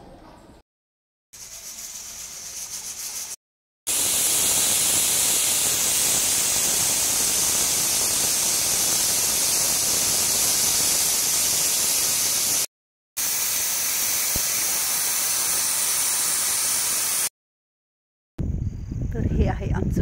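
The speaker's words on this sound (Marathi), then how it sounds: "आता मी कुकरच्या 3 शिट्ट्या घेते" A pressure cooker cooking rice hisses steam in a loud, steady, broadband rush that runs for long stretches, broken by abrupt cuts to silence, with some talk in between; no distinct whistle tones stand out.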